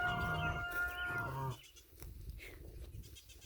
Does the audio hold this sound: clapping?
no